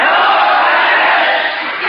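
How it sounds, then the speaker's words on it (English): A big football crowd at the Rose Bowl roars in a dense, continuous wash of cheering, loud and steady with a slight dip near the end, heard through a thin, radio-like filter. "Yeah, listen to that crowd."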